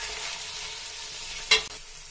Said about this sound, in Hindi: और अब हम इसमें गाजर डालेंगे, इसे भी हल्का सा सौते करना है